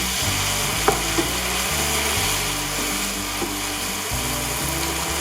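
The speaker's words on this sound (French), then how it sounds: "On va donc caraméliser le miel." Honey caramelizing with spices in a hot pan gives a steady, close sizzle with a few faint clinks and scrapes of stirring, and no voices.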